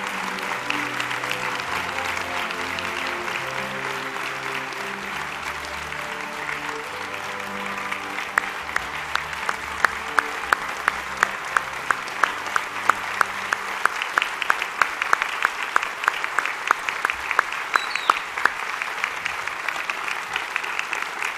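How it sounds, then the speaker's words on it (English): Applause for the 2010 inductees at the National High School Hall of Fame induction ceremony, a large crowd clapping steadily, sharp claps growing more distinct as music plays underneath, no talking. "how about one more final round of applause for the 2010 inductees into the National High School Hall of Fame"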